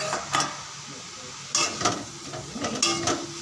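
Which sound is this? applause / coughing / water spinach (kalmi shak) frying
water spinach (kalmi shak) frying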